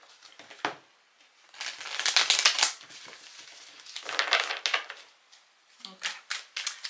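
A tarot card deck is shuffled nearby in several crisp, papery bursts, with a voice talking in between.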